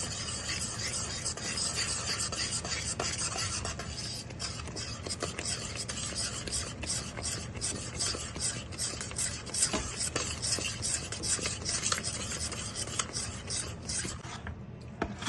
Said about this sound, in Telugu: కొంచెం కొంచెంగా పిండి వేసుకుంటూ బాగా కలుపుకోవాలి